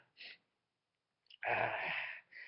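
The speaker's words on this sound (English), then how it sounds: "I'm one of these silent sneezes" A muffled, stifled sneeze: a brief breathy catch, a pause, then a sharp hissing burst of air trailing off into a short exhale.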